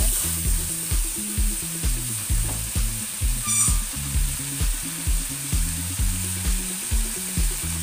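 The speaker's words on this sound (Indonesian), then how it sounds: "setelah ditumis seperti ini, masukkan kaldu sapinya yang sudah mendidih tadi ya" Hot beef broth poured into sautéed spices for rawon, a steady loud sizzle with a rhythmic stirring or scraping pattern running throughout, no talking.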